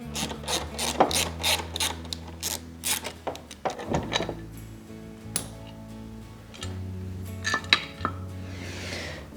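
Bolts are loosened and removed from the pillion foot peg of a Peugeot XP400 scooter, with sharp metallic ratchet clicks and clinks of tools in irregular bursts, close and clear.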